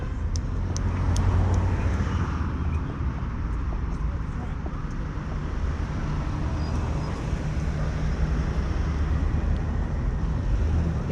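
Interior of a city bus in Samarkand, Uzbekistan, rolling along broad avenues in the evening, steady engine and road rumble throughout with a few faint clinks near the start and muffled voices underneath.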